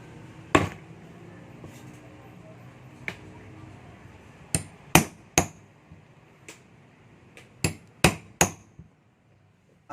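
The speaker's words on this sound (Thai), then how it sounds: "ก็ตอกให้รอบก่อนที่เราจะนำไปถักนะครับ" Sharp, irregular taps of a hammer striking a leather punch through genuine leather for a phone case, some single and some in quick pairs, over a faint steady background hiss.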